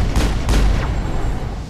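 Loud, booming gunshots from the video game Mass Effect: two heavy blasts in quick succession, each followed by a rumbling tail that fades into a low, sustained roar.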